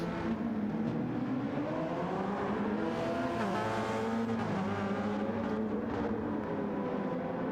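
A Porsche and a Toyota race car battle in GT7 endurance racing, their engines droning steadily at close range with pitch shifting as they rev and change gear, tyres faintly squealing.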